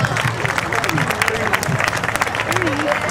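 Steady applause from a crowd at a CIBC Run for the Cure event, with voices murmuring and calling out over the clapping.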